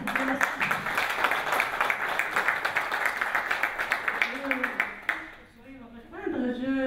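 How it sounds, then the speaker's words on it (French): A conference audience claps in a dense, rhythmic round of applause for about five seconds, then voices talk as the clapping stops. "je vous demande d'applaudir"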